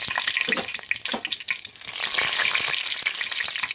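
Dried red chilies fry in hot oil, a crackling, spattering sizzle with sharp pops scattered through, close and fairly loud with no talking.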